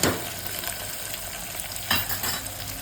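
Crushed peanuts and curry leaves sauté in hot oil, a dense, steady sizzle with soft scraping stirs and a louder stir near the start and partway through.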